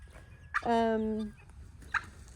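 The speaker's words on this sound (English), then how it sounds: "here's most of the guineas, probably all the guineas actually, over here" Guinea fowl near a stretch of farm fencing give one drawn-out, harmonic call lasting under a second, bracketed by two short sharp chirps, fairly close and clear against quiet background noise.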